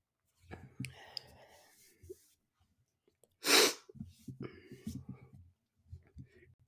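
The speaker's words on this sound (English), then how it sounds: "Sneeze." One sharp, loud sneeze erupts up close in the middle, between stretches of quiet, close-miked talking.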